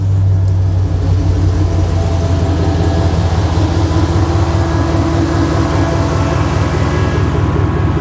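A 1973 Chevy Caprice engine idles steadily up close, a deep, even rumble with a low throbbing pulse that holds for the whole stretch with no voices.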